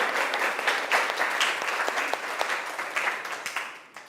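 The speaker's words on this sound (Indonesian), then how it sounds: "Tepuk tangan buat kalian semuanya." Classroom applause from junior high students during a lesson at a school in Depok, a dense burst of many hands clapping that carries on evenly and tapers off at the end.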